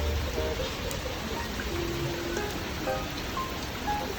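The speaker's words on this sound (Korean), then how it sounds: "빗소리 좋다, 그치?" Steady rain patters on surfaces around an outdoor restaurant in a continuous even hiss, with faint indistinct voices and scattered small sounds underneath.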